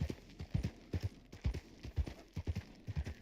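Horse hooves clip-clop steadily at a walking pace in Red Dead Online, an even rhythm of soft thuds, faint and alone.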